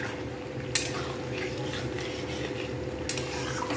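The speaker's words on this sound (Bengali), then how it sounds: "এবার আমি পনিরগুলো আস্তে আস্তে ছেড়ে দেব, যাতে পনিরের ভেতরে পুরো মশলার মিক্সচারটা যাতে ঢুকে যায়" Paneer pieces go into a pan of simmering masala mixture, making a steady close sizzle with a continuous stirring scrape and two sharp clinks of a spoon against the pan.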